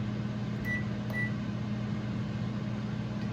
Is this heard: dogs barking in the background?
no